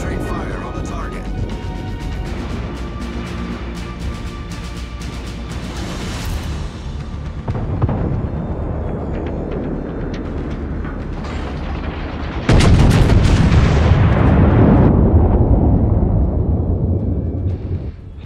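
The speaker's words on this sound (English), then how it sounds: "All stations, concentrate fire on the target." Warship guns firing on a target in a naval video game, a dense run of booming blasts and rumbling impacts that grows louder and heavier toward the end, with a voice speaking over the gunfire.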